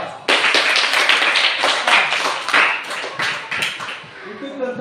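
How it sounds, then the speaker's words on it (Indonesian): A classroom of students gives a burst of applause for a group, dense, quick clapping that rises sharply, carries on for several seconds, then thins out. "Tepuk tangan kelompok 4."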